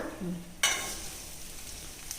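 Onions sizzle and crackle steadily in a hot pan, with a short scrape of stirring near the start, close up.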